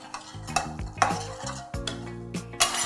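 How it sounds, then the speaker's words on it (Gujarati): A spoon stirs sugar syrup into roasted amaranth flour for a Gujarati farali mohanthal sweet. The scraping and clinking against the pan repeat steadily with a faint sizzle, close up and without talk. "હવે આમાં આપણે ચાસણી નાખી દઈશું આની અંદર."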